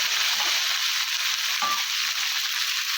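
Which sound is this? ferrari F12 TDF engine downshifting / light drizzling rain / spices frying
spices frying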